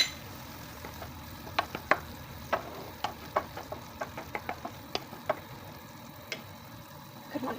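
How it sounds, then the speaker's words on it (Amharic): Shiro, an Ethiopian chickpea flour, roasts in a frying pan, with a soft dry crackle broken by irregular light taps and scrapes from stirring, quiet and close, with no voices. "እንደዚህ እየተቆላላ ነው ማለት ነው።"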